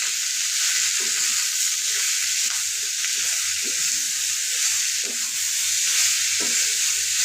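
Leafy greens (shak) sizzle in a frying pan with a loud, steady hiss, close up, with occasional stirring scrapes and no talking.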